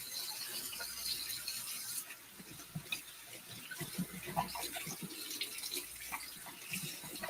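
An apple is rinsed under running tap water at a sink, a steady wash of flowing water with soft rubbing and handling noises throughout, fairly close and continuous with no talking.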